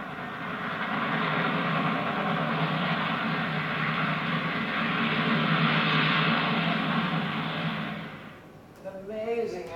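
A runway-independent rotorcraft airliner in flight gives a steady, loud broadband engine and rotor roar for about eight seconds, then fades and breaks off near the end.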